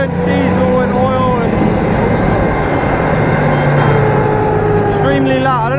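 Diesel-powered AMX13 light tank driving at a UK military show, with a loud, steady engine drone and rumble close by that holds an even level across the clip while people talk over it.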